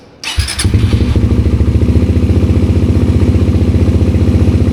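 A Suzuki GSX 150 motorcycle with a silencer fitted starts up and idles in a steady, close, loud throb that holds an even pulsing rhythm throughout.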